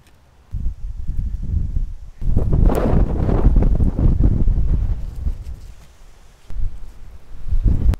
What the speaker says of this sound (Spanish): Lo siento, que creo que no vais a ver mucho porque hay muchísimo viento.